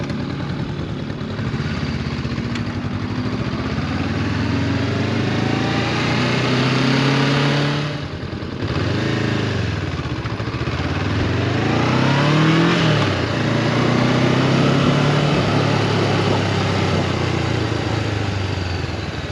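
Yamaha Champ motorcycle engine revving and accelerating on a street, a steady mid-pitched drone with rising and falling pitch sweeps as the throttle opens, dipping briefly then pulling hard again, close and loud throughout with no talk.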